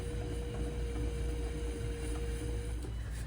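A small VEVOR pottery wheel spins while clay is thrown into a 2 lb cylinder, giving a quiet, steady motor hum with a constant whine that stops near the end.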